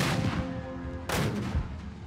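Civil War rifled artillery firing at the Battle of Antietam, a heavy boom cutting through a rumbling battlefield din, with other distant reports underneath and no talking.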